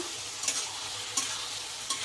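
A spicy Manipuri fish curry with cumin masala, turmeric, red chilli and salt is stirred in a frying pan, giving a steady soft sizzle broken by three distinct scraping strokes of the spoon, with no talk.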